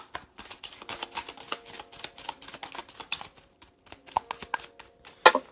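A deck of Pure Love oracle cards is shuffled during a reading, giving a quick run of soft papery riffles and taps, close and steady but quiet, with no talking.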